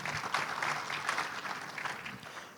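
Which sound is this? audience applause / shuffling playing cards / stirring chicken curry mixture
audience applause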